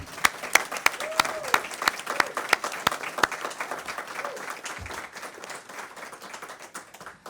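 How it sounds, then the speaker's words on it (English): Audience applause closing a panel on public school options: a burst of sharp, close claps at first that thins into a steadier, softer patter, with a voice briefly speaking over it. "Let's give, one more round of applause for our Changemakers."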